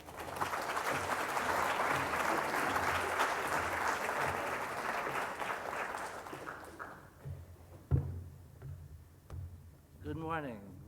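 Audience applause welcoming a speaker at a lecture, a dense steady clapping that swells for several seconds, then thins out and stops, followed by a thump and brief talking.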